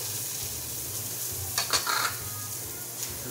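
Garlic browning and being stirred in a hot pan for a pig ear stir-fry, a steady sizzle with a few brief scraping stirs near the middle, close and fairly loud.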